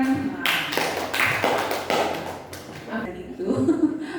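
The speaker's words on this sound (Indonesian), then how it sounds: "kasih tepuk 3 deh untuk Ibu Irma Yusnita yang keren" A seminar audience claps a short rhythmic three-beat cheer for a presenter. Sharp, close claps come in quick bursts, with voices and light laughter mixed in.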